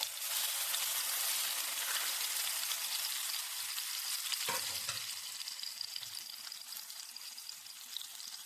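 Fish dropped into hot oil in a home kitchen pan, a loud steady crackling sizzle throughout with a brief thump partway through as the fish goes in, then slightly settling frying.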